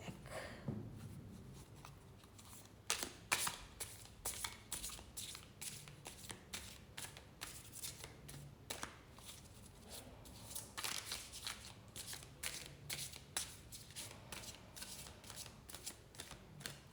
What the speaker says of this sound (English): I'll just finish this shuffling and we'll clear the deck.